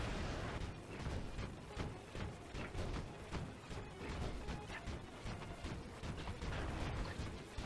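A Zonai cannon fires again and again in Tears of the Kingdom, loud rapid booming blasts mixed with clanking mechanical rattles, packed densely and continuously through the stretch.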